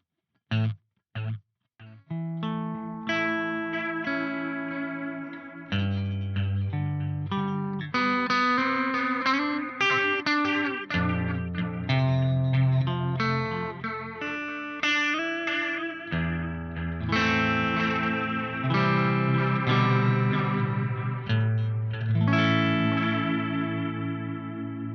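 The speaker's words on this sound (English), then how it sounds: "Let's go to that analog delay." A guitar is played through the analog delay mode of a Meris LVX pedal: sustained chords and notes trail off in repeating echoes, dense and loud after a few sparse opening plucks.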